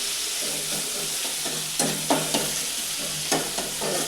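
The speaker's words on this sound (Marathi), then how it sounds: "चांगलं जरा परतून घ्यायचं" Vegetables, cluster beans cooked village-style, sautéing in a pan: a constant sizzle with periodic scraping strokes of a spatula, close and fairly loud.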